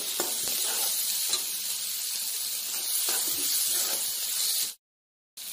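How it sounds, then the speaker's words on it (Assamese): Ginger and garlic frying with onions in a pan, a steady close hissing sizzle with faint stirring scrapes, cutting off into a brief silence near the end, no talking. "আদা নহৰুখিনি অকণমান ভাজ খোৱাৰ পিছত আমি বিলাহীখিনি দিম"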